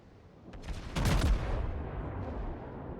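Naval cruiser main guns fire a salvo in a video game, a loud booming blast swelling around one second and trailing into a long rumbling decay, with no talk.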